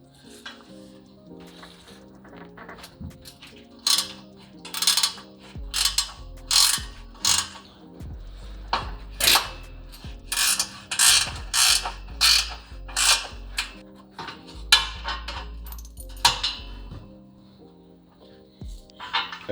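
A ratchet wrench loosens the carrier bearing bolts on an Infiniti G35 coupe driveshaft, clicking in repeated loud bursts of rapid pawl ticks with brief gaps between strokes. Each burst sits close and stands alone.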